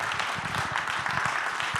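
Audience applause at an Ohio tribute event honoring Rosa Parks, a dense, steady wash of many hands clapping throughout.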